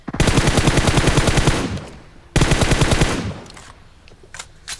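Automatic rifle fire in PUBG Mobile, apparently from an M416, comes in two loud rapid bursts: a long close stream of shots lasting about two seconds, then a second shorter burst, with faint sounds trailing afterward.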